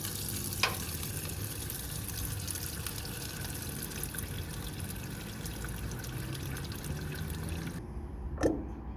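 Fuel streams steadily out of a bolt hole on a Nissan Skyline R31, a continuous close hiss and trickle with a couple of faint clicks.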